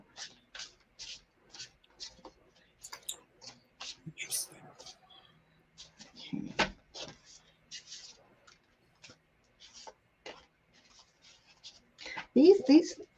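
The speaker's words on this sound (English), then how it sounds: "These are like cardboard and they're a little noisy. I'm trying to shuffle." Stiff cardboard tarot cards scrape and tick in a steady run of short, crisp shuffling bursts, with a brief soft voice partway through and a louder rustle at the end.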